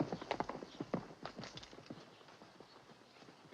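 Horse hooves clip-clop in a quick, uneven patter, loud at first and then fading as the horse moves off, with faint background noise from a 1948 western film soundtrack.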